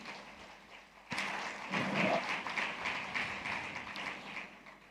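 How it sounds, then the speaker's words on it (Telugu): A church audience bursts into applause for the women at a sermon on family and careful spending, the clapping starting abruptly and carrying on steadily at moderate volume. "ఇటు స్త్రీల కొరకు ఒకసారి చప్పట్లు కొట్టండి."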